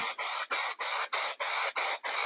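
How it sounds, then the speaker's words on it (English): White spray paint hisses from an aerosol can onto a snow-themed window stencil in seven or eight short, loud, close bursts separated by brief gaps. "we spray on the stencil, and then we spray below the stencil."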